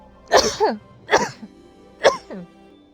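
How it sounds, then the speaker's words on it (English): A woman sneezes or clears her throat in three short, sharp bursts spaced about a second apart, close and fairly loud against a quiet room. "I'm sneezing"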